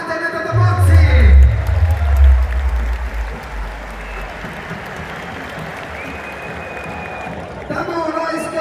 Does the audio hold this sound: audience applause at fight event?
yes